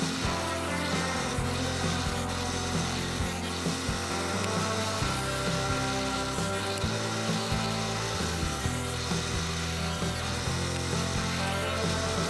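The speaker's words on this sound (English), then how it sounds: "Lastly, I rip up some 3/4 inch plywood at 1 inch for the back of the flag." A power saw rips 3/4 inch plywood into 1 inch strips, a steady loud cutting whine with a dense tonal hum that runs without a break for the whole stretch.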